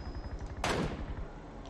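A single sharp gunshot in the mobile battle game PUBG Mobile on the Miramar desert map, one loud crack with a short decaying tail over a low rhythmic background hum.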